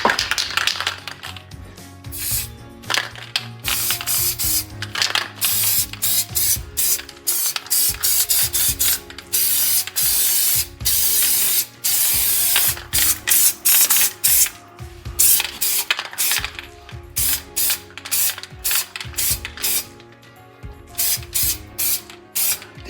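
Close, loud bursts of spray paint hiss in repeated short and long blasts with brief gaps, while an astronaut picture is spray painted.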